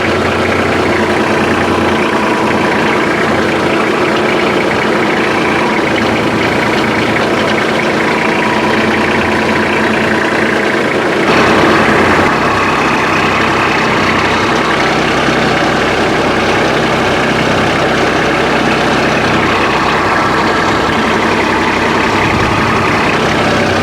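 A tractor pulling a hay tedder through wet hay on wet ground runs loud and steady, its deep engine drone continuous throughout with a slight shift in tone partway through.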